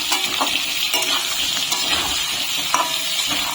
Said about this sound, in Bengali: এখন আলুগুলোকে লাল করে ভেজে নেব